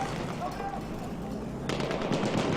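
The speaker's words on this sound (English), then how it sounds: "And there was a ton of explosions right there." Rapid machine-gun bursts and booming blasts fill a Battlefield 1 multiplayer match on the Battle of Kakamas map. The fire is dense and continuous, with a sharper, louder volley near the end and commentary partly under it.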